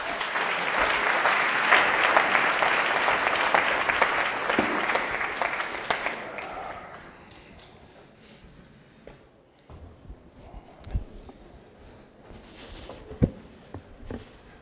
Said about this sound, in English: I would remind the court not to demonstrate your emotions and applaud